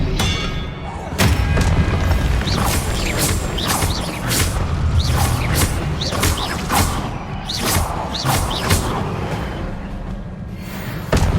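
Expelliarmus spells are cast during Hogwarts Legacy gameplay, with repeated sharp magical whooshes and booming impacts that land in quick succession over a constant game background rumble.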